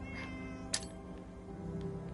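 Cats meowing in the video game Fallout 4 near cryo mines, a couple of soft distant meows over a steady game ambience with one sharp brief burst partway through.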